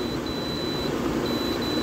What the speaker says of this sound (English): I don't like the beep though. The beep's pretty annoying.